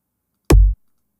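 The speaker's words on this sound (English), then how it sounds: "I have some kick samples here." A lone kick drum sample hits once with a sharp click at the front and a short, deep, punchy thump that cuts off quickly.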